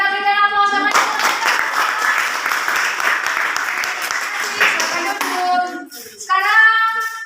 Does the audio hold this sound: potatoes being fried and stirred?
no